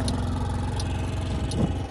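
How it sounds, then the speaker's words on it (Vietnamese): A Honda Canopy 50cc four-stroke fuel-injected scooter engine runs at a steady idle, a close, even low putter with light mechanical clatter throughout. "nổ máy luôn đi."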